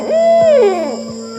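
A barn owl gives a single loud, drawn-out call that rises and then slides downward, set against a steady background of insect chirring in an Alpine setting.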